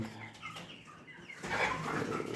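Bielefelder chickens on a farm clucking and calling, scattered soft clucks early, then a louder, busier burst of flock noise in the second half, with no talk.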